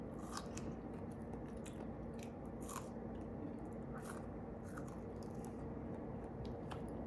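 Wet crunchy bites and chewing of a strawberry up close, several small crisp bursts over a steady low background hum, no talking.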